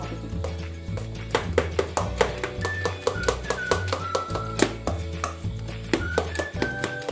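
Spoon clinking and tapping against a bowl in a steady, repeated rhythm while stirring an egg yolk mixture for a three-layer tiramisu, close and fairly quiet, with no talk.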